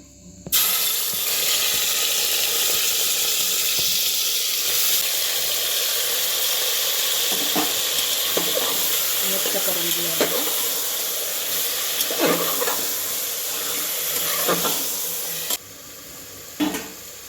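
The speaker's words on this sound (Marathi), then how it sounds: "बघा तेल गरम झालं ह्यात आपण आता ही चिकन टाकूया" Turmeric- and salt-rubbed village-style chicken frying in hot oil, a continuous loud hiss and sizzle with occasional stirring clatter, fading slightly near the end.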